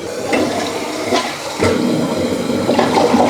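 A toilet tank refills with water after a handle repair, a steady rushing gurgle that carries on close by throughout.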